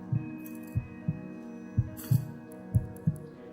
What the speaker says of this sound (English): All he could hear was his own pounding heartbeat.